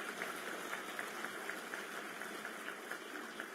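A conference audience in a hall claps together in a dense, sustained round of applause that holds steady at a moderate distance.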